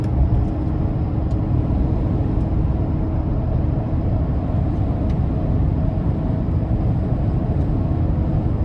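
Steady low diesel drone and road rumble from a 2024 GMC Sierra 2500 AT4X with the 6.6-litre turbodiesel under acceleration, heard from inside the cab, even and continuous throughout with no talk.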